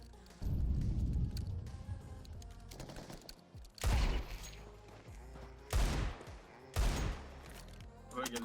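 Gunfire in a video game crackles in several loud, dense bursts separated by short quieter gaps, with a busy mix of game sounds underneath.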